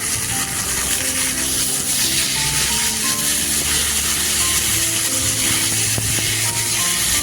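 Taro leaves hit a pan of well-fried onions and green chillies, setting off a steady, close sizzle and frying hiss with faint stirring scrapes throughout, no voices.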